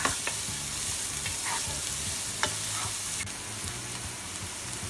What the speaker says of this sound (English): And we'll just mix the onion with the oil and on high flame until it is light golden brown.